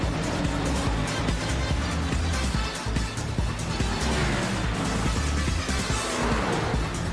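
Race cars roaring past on the Long Beach street circuit in a video game race, a continuous loud engine drone with several cars sweeping by in succession and no talking.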